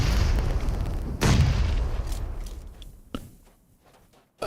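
Grenade blasts in a competitive tactical shooter match, a loud booming burst followed by a second sharper detonation, dense rumbling game noise throughout that fades toward the end.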